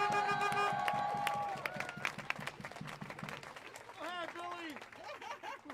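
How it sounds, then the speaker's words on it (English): Crowd at a Washington protest claps and cheers loudly for the next speaker, a dense burst over a low rhythmic background that thins out after a couple of seconds as voices and scattered claps carry on. "So can you give her a round of applause?"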